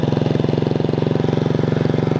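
A racing lawn mower engine with a two-speed transmission runs loud and close, spinning the belt without reaching full throttle, in a rapid, even, pulsing chug that holds steady throughout.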